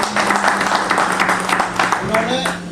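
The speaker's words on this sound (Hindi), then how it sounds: "तालियां रावत जी के" An audience claps for Mr. Rawat at a one-day leadership programme event, with steady dense applause throughout and voices and a hum running underneath.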